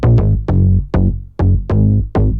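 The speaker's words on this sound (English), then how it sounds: "take the root notes of these chords and then chop them up into a rhythm that sounds like this" Chopped bass notes built from chord roots play in a tight, bouncy rhythm for an electro pop track made in FL Studio, with short punchy hits and gaps between them, loud and alone.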